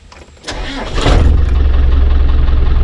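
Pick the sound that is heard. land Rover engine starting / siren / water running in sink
land Rover engine starting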